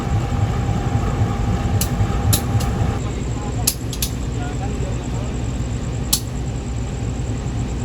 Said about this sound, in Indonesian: Yuk, kita nikmati proses pesusulan kereta api Kahuripan.